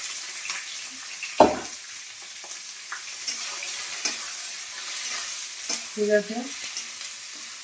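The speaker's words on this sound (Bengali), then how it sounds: "পেঁয়াজ দিয়ে একটু ভাজি, তারপরে মাংসটা দেবো" Onions frying in a pan for chicken curry give a steady close sizzle with scattered stirring scrapes and one sharp clatter, with a few brief words spoken.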